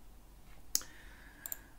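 Mouse clicks in SPSS software: two or three small, crisp clicks close by, quiet and spaced under a second apart against a faint background hum.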